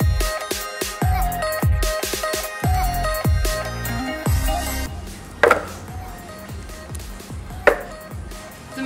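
Repeated knife chops through frozen ripe bananas on a cutting board, cutting them into small pieces, in a steady run of close, sharp thuds that grow sparser and softer halfway through, with a couple of louder isolated knocks near the end.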